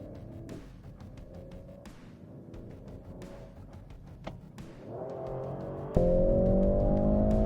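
A 2025 Mercedes GLC63S E AMG and a Maserati Grecale Trofeo pull away from a standstill in a drag run, engines rising through gear shifts with ticks and thumps, then a louder steady roar as one accelerates hard nearby.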